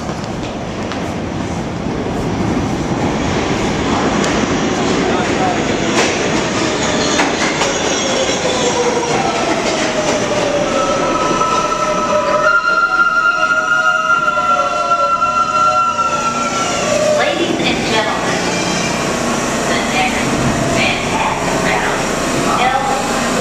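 An L train pulling into a New York subway station: a loud, steady rumble with screeching wheel squeals and rising metallic tones as the cars arrive, with voices faintly audible in the background.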